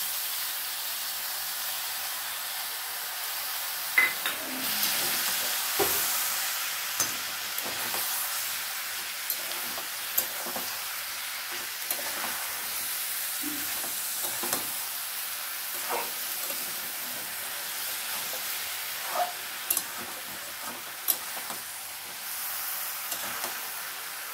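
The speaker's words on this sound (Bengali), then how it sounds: "এবারে টমেটো পেস্টটা এর মধ্যে অ্যাড করে দিলাম।" Tomato paste sizzles steadily in a hot pan, a continuous frying hiss broken by scattered scrapes and clinks of a spoon stirring, close and moderate in volume.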